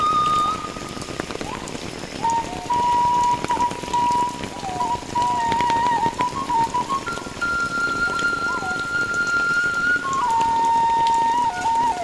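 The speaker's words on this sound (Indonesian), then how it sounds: "Hujan pagi hari" Steady morning rain pours on surfaces in a mountain village in Hargotirto, Kokap, as a dense, even wash of drops. A faint, wavering whistle-like tone runs above it throughout.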